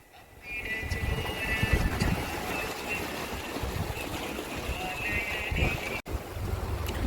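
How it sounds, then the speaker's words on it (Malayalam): Strong wind at a fishing spot buffets the microphone in a continuous loud roar, with faint water movement underneath and no clear talk. "ഇവിടെ കാറ്റ് ഭയങ്കരമായതാണ്"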